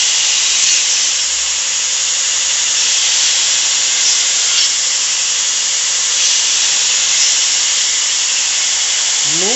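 A knife blade is sanded against the side of sandpaper, producing a loud continuous close hissing rasp that holds steady throughout with no pauses.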